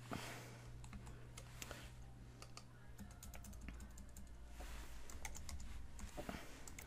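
Steady typing on a computer keyboard, quiet and close, with a continuous patter of key clicks throughout and no voices.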